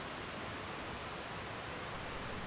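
Bridal Veil Falls in DuPont Forest, North Carolina, roars as a steady, dense wash of falling water, loud and unbroken throughout with no voices.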